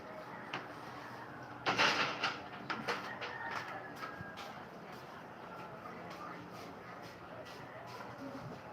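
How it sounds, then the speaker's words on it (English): A sliding door is pulled shut with a rolling rumble and a couple of knocks as it meets the frame, fairly close, followed by faint scattered clicks over quiet room noise. "Close the door, huh? Close the door."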